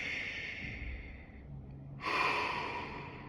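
A person breathing close by: a slow, soft inhale followed by a louder, airy exhale, heard alone without talk.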